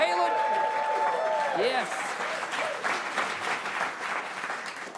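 Studio audience at a late-night show applauds a singer and former America's Got Talent contestant as he is introduced; clapping builds and continues steadily, with a voice speaking briefly at the start.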